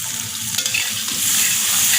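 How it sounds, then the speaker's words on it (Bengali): Cabbage, spinach and gourd greens curry stirred and fried in oil, a steady close sizzle with scraping stir strokes that grows slightly louder toward the end, no talking. "আমি আবারও নাড়াচাড়া করে কষিয়ে নিচ্ছি।"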